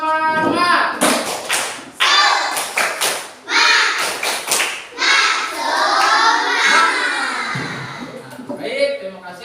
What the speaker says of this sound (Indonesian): Kita tepuk semangat ya.